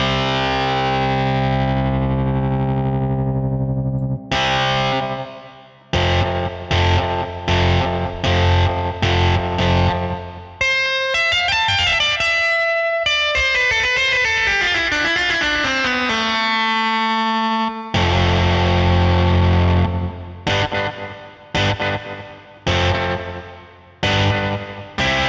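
Distorted electric guitar from a Telecaster processed in Logic Pro X, loud and sustained: ringing chords, choppy rhythmic stabs, a descending sliding run, then more staccato chord hits, with no talking.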